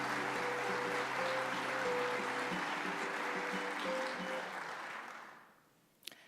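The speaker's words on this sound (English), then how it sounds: "How about a round of applause for our great work?" Applause fills a university winter convocation ceremony hall as a sustained wash of clapping over a steady musical tone, then fades out near the end.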